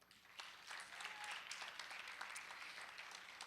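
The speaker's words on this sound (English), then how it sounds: "Give yourselves a round of applause." A crowd claps steadily for a few seconds at a student media awards event, a dense wash of applause heard from a moderate distance.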